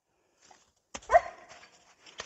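A female dog lets out a few short, close barks and yips in quick, uneven bursts between quiet gaps, heard during a backyard cornhole game.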